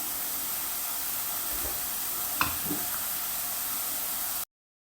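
Onions soften in a pan with a steady, even sizzling hiss throughout, broken by a single brief clink partway through, before the sound cuts off abruptly.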